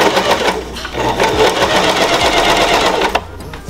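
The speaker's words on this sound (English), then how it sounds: "So I'm just going back over it again to make sure it's locked in. As you see, while you see me sewing it again." A sewing machine runs a double stitch back over a hoodie zipper being converted into a zip-up, a loud, close, continuous rapid whir that slows briefly before the motor stops.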